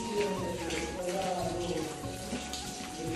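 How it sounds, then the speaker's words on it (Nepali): Very cold water falling and splashing continuously at a mountain site, a close, dense rush with a voice talking faintly beneath it. "यहाँ चाहिँ यस्तो पानी झर्दैछ तर पानीहरू चाहिँ एकदमै चिसो है"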